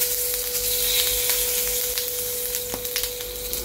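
Whole cumin seeds and bay leaves sizzle in hot oil in a pan, a steady close crackle with small pops and splinter-like snaps throughout, with no voices over it.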